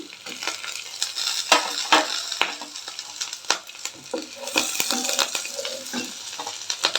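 Ginger paste and green chillies fry with cumin seeds in a pan for a vegetable ragi soup, sizzling steadily while a spoon scrapes and taps in quick, close strokes.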